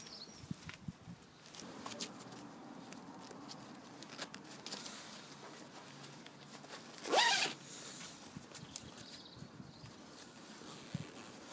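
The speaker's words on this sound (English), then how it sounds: "Zip her up." The jacket zip of a CBRN/NBC protective suit is pulled up in one quick, loud rasping stroke, set amid quiet rustling and shuffling of the suit material.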